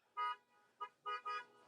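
A car horn sounds outside, heard as four short beeps in an uneven pattern, the first and last two longer and louder than the brief third, at a moderate distance with no talking.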